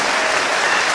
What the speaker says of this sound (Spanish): A fuerte aplauso para este hermano.